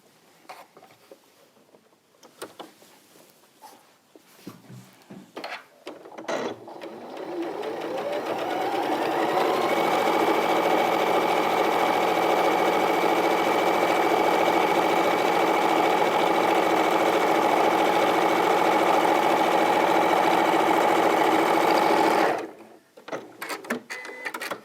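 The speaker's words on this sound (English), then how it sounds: "we're going to sew just a 1/4 inch seam along the bottom" Sewing machine running steadily for a long continuous stretch, stitching a quarter-inch seam along the bottom edge of fabric, starting up after a few quiet handling sounds and stopping abruptly near the end; close and loud with no talking.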